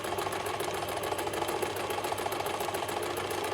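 A sewing machine stitches a seam in fabric with a fast, steady mechanical whirring and rapid regular clatter of the needle, close and continuous throughout with no talking.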